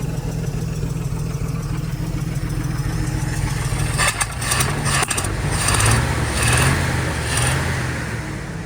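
A 1969 Chevrolet C30 truck idles with a steady low rumble, then the engine is revved up in a few short swells before settling back, close and loud.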